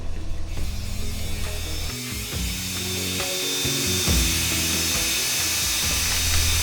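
A power tool cuts through an old pipe at a timbered mine portal in Colorado, a loud continuous whine with stuttering bursts and rising intensity, close and alone without talk.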